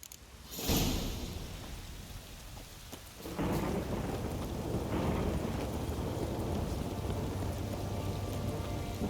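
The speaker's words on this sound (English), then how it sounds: "If it don't stop raining, my arse will rot off." Heavy rain pours in The Witcher 3 video game as a loud thunderclap bursts in, followed by a rumbling roll and then a thick, constant rain roar that fills the rest.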